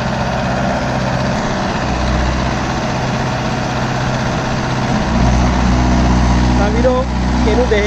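A Mahindra Yuvo 575 4WD tractor engine idles close by on farmland, a loud, steady low rumble that thickens slightly partway through.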